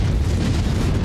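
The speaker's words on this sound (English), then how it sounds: "Maybe got an ammo explosion on him as well." An ammunition explosion on a mech in the MechWarrior 5 video game gives a dense, loud, low rumbling roar that holds steady through the short stretch, with no voices.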